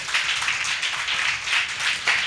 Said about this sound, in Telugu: కొట్టి చప్పట్లు కొట్టొచ్చు కదా